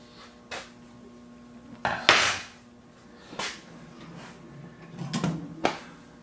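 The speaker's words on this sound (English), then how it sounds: "I plan to hit those right to the bottom of the pan and do my combing like that" Quarter-inch metal rods with blunted ends strike the bottom of a pan while combing layered HDPE for a slingshot frame, giving several separate sharp clanks and knocks spread irregularly, moderately close, with no talk.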